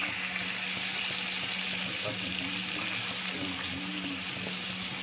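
Curry leaves crackle in butter in a hot pan, a steady broadband sizzle filling the clip at moderate level with no talk, with a low steady hum underneath.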